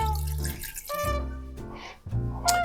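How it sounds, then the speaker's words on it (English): Three-quarters of a cup of water is poured into a pan, a close, bubbly gurgling splash in a few short bursts with brief pauses between them. "You're gonna pour in 3/4 cups of water."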